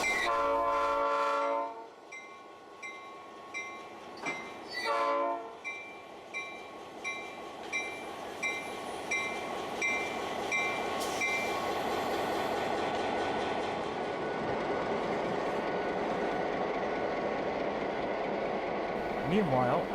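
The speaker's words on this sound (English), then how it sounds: "the locomotive backs up just a few inches in order to pull out the remaining slack from the couplers" Heritage steam locomotive on the Nevada Northern Railway eases back a few inches to take slack out of the couplers, with a horn blast at the start, clanks and short bumps, then a steady rumbling under faint talk.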